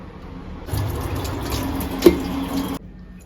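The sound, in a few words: washing cut vegetable cubes under water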